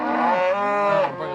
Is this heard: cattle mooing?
yes